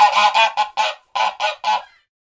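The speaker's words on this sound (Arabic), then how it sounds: "وزة." A goose honks seven times in quick, harsh, loud bursts, close by and alone, with a brief pause midway through the series.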